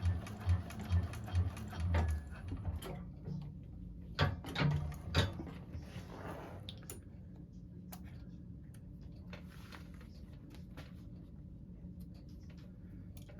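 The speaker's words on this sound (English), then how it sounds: "now it's time to back stitch" A 1341 cylinder arm sewing machine back stitching on a bag, with a quick burst of rattling stitches, then a quieter steady mechanical hum and scattered clicks.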